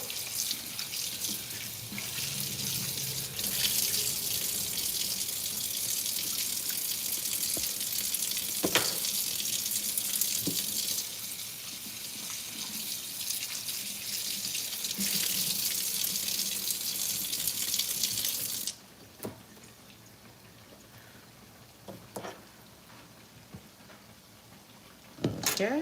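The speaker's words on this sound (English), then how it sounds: "Tell me why I turned this water on cold water." Cold water runs from a kitchen tap into the sink in a loud, steady hiss that lasts most of the time before cutting off, and then quieter kitchen sounds and brief bumps follow while someone talks.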